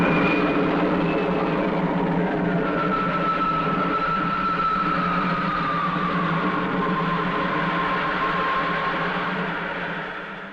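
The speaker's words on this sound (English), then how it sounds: "Ready to lift. Takeoff program starting now." Spaceship takeoff effect for a 1950s space-adventure series: a loud, continuous roaring rumble with a high whine that slowly glides downward, sustained throughout and fading slightly at the end, with no voices.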